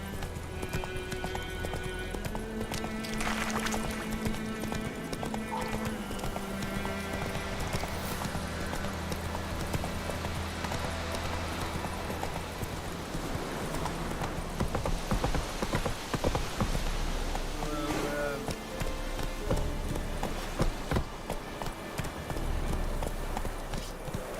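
Roach the horse galloping in The Witcher 3, hooves pounding in a quick, steady clip-clop rhythm close up over game music and ambience, with a brief whinny and a voice speaking.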